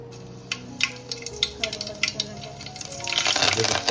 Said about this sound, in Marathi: आता आपलं तेल गरम झालेलं आहे आता आपण राय जिरा टाकून घेऊ